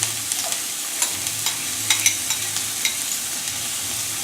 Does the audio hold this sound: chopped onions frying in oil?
yes